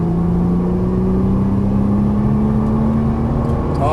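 A Nissan GT-R engine pulls hard on a track, its steady rising drone climbing smoothly in pitch over a few seconds, loud and close with road roar underneath.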